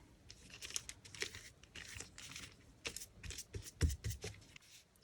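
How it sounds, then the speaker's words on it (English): Dried handmade textured paper of napkins, tissue paper and clear glue crinkles and crackles close up in irregular bursts of handling, quiet and without talking. "The paper's dried and they're looking really nice, and I love the sound."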